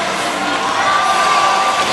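A crowd of fans cheers at a women's squash team final at the 2017 SEA Games, Singapore against Malaysia, with a steady, loud roar of shouting and applause throughout.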